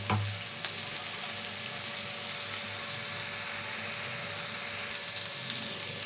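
Ginger garlic paste sautés in oil for mutton chukka, a steady close sizzle with occasional light clicks of stirring, continuous and even with no one speaking.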